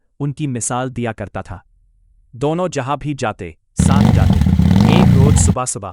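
A motorcycle engine rumbling loudly as it pulls up, a dense revving burst lasting under two seconds between stretches of narration in a horror story.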